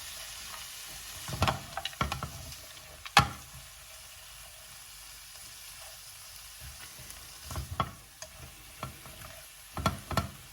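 Rice noodles stirred in a hot pan for a mango tango noodle dish give soft sizzling under several sharp scrapes and knocks of the utensil against the pan, scattered irregularly and heard close up.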